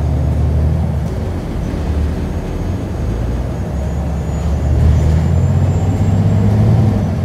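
Interior of a 2019 New Flyer XDE40 hybrid city bus in MBTA service on Route 62/76, a steady loud engine and road rumble with a brief air-brake hiss, continuous throughout with no talking.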